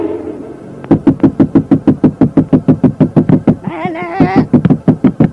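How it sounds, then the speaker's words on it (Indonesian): A bedroom door in an audio drama is forcefully pushed and banged, producing a rapid, loud series of regular thumping knocks, around twenty in a row, with a bleating animal-like cry breaking in partway through. "tiba-tiba pintu kamar itu bergerak dan terdorong kuat"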